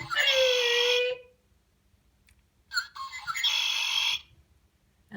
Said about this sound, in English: And these are the red-winged blackbirds. Let's hear that song one more time before we say goodbye.